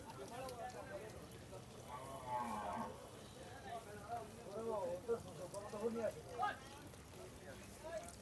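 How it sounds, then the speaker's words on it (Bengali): Cattle at a Narayanganj Qurbani cattle market, with low moos rising out of a steady crowd murmur and background chatter, a few calls louder and closer in the middle. "বেশ কিছু গরু উঠেছে এই হাটে।"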